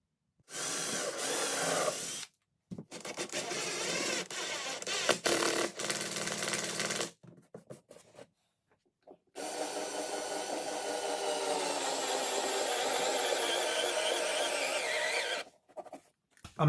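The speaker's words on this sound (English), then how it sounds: "I'm having to use my little work drill as my impact." A cordless drill driving screws into framing in a jon boat whirs in three bursts, the last one long and steady, with brief quiet pauses between runs.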